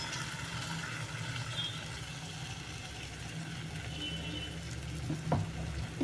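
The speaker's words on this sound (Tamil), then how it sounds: "இதையும் நல்லா அப்படியே எண்ணெயில் வதங்கிட்டோம்னா கொஞ்சம் தேவையான அளவு உப்பு போட்டுக்கணும்" Ground tomato-onion paste sautéing in oil for a fish curry, a continuous dense sizzle with a few stirring scrapes near the end.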